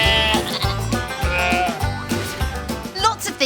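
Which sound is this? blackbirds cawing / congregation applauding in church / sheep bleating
sheep bleating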